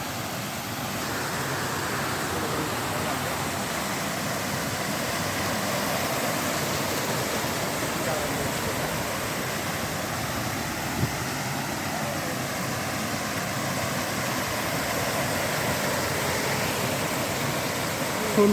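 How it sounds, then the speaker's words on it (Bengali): A waterfall pours with a continuous, dense rushing roar that holds steady and fairly loud the whole time, with no breaks in the flow. "এই যে ঝর্ণা,"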